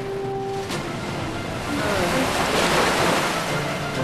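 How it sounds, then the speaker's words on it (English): Rough ocean waves wash and surge alongside a breeze and wind buffeting, the surf swelling louder midway through, with brief tones and voices early on in a cartoon setting. "rough waves, the cool breeze"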